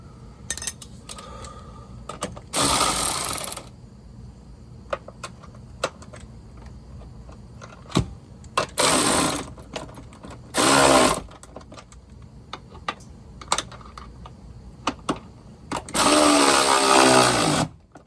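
Washers and bolts being tightened with power tools while fitting a 7.3 Powerstroke 4x4 system under a truck cab: several loud whirring bursts of a powered driver, separated by sharp metallic clicks and clanks.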